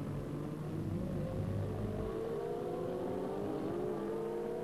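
Formula 1 cars at the 1984 Monaco Grand Prix, a steady distant engine drone and rumble that rises gradually in pitch as the cars pass.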